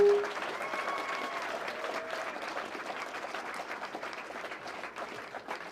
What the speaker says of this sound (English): Let's give them a complete round of applause.